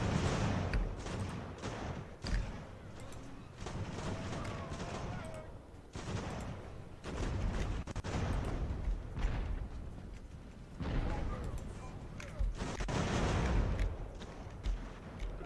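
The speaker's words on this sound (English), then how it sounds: "So we got mortar fire now on the Hessians." Mortar fire in the Ultimate Admiral: Age of Sail game, a sustained barrage of gunfire and booming blasts from battalions and artillery, dense and continuous across the whole stretch with repeated heavy thumps.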